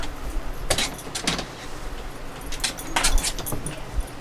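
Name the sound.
pet dog named Pinto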